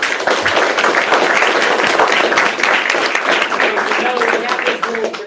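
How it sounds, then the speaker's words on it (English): An audience at an investor talk breaks into a brief, loud burst of clapping, dense and continuous with a few voices mixed in. "Give a round of applause."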